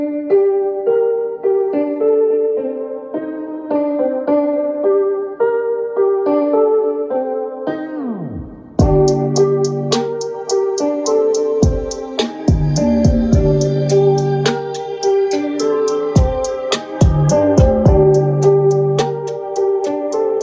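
Music played through a Blaupunkt AMP-1804BT mini four-channel Bluetooth amplifier, a steady melodic passage that turns denser with a pounding beat after a brief dip partway through, loud and continuous with no talking.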